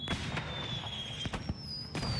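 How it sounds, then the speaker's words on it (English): Fireworks in Dragon Age: Inquisition, several sharp pops and bursts spread over a couple of seconds with a whistling rise, at moderate loudness. "Yay, fireworks."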